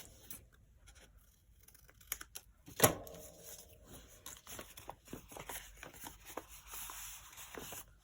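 Paper from an old book page is handled, folded in half and snipped at the edges with scissors, a close run of short crisp rustles and clicks with one sharp louder crinkle partway through, no talking.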